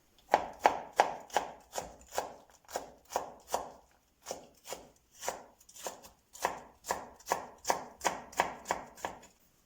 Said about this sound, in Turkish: İki tane orta boy biberimiz var. Bunları da küçük küçük doğrayacağız.